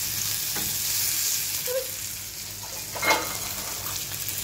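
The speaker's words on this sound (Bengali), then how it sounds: "লবণ দিয়ে পেঁয়াজটাকে একটু ভাজা ভাজা করে নেব" Onions frying with salt in hot oil, a steady low sizzle running throughout with a few brief stirring scrapes, fairly soft and without talk.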